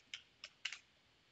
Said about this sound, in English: Okay, just type the command.